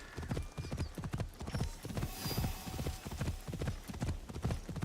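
Horse hooves clip-clop steadily in Assassin's Creed Shadows, a brisk and even rhythm of hoof strikes at close range that carries on throughout with no talking over it.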